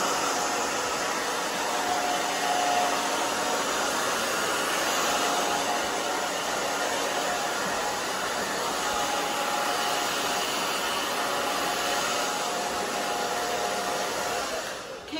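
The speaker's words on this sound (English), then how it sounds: "You dry it the opposite way for just a minute." A handheld hair dryer blows steadily on a short bob haircut, a loud, continuous whoosh of air that holds for the whole stretch and fades slightly at the very end.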